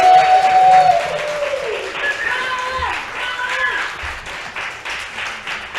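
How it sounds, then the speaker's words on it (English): Audience applause for poets at a creative writing showcase, clapping heard under voices and cheering, loudest at the start and then tapering while people talk over it. "Now give a big round of applause to all our poets tonight."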